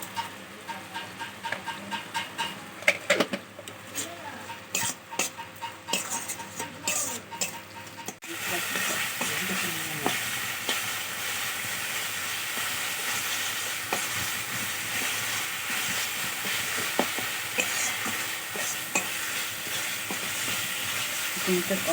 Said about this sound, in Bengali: মশলাটা ভালোভাবে কষতে হবে যতক্ষণ না তেল ছাড়ছে এর থেকে